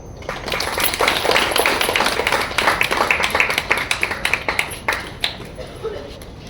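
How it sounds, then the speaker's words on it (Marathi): An audience at a devotional Swami Samarth gathering claps together in a loud, sustained burst that gradually thins into scattered claps. "टाळ्या."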